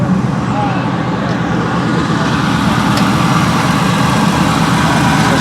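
A 2025 Lamborghini Revuelto idles close by, a steady loud engine drone with constant low rumble and no revving.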